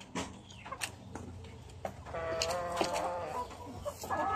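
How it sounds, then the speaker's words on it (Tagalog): A small Stichelbaut chicken clucks and calls close by in a series of short, varied vocalizations over a faint background. "Ito pala yung Stitchel Bout na sinasabi ko."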